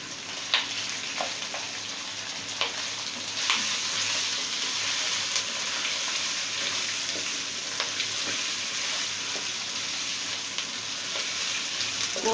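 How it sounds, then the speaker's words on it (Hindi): Boiled mutton fries in a pot for a Hyderabadi korma with a steady, loud sizzle and a dense hiss, with occasional pops and stirring scrapes throughout. "गोश्त डालने के बाद हम इसको अच्छी तरह से भूनेंगे।"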